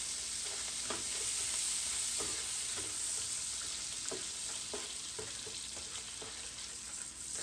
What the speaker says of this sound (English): I'm adding my onions.